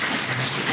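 Applause from an audience at the final of a national poetry contest, thanking the jury; a dense, steady wash of clapping with no voices, brief.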